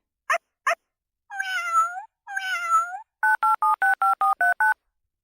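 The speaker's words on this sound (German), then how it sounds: "Drück die Zahlentasten, um deine Freunde anzurufen." Two short beeps, then two synthetic meows, followed by a quick run of eight number-key tones in a steady rhythm from a 2012 VTech Tierchen Lernhandy toy phone, clear and close.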